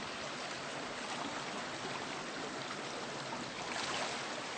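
A shallow wadeable stream in Washington State flowing steadily while a macroinvertebrate sampling net is rinsed in it, a continuous close rush of water with no other sounds.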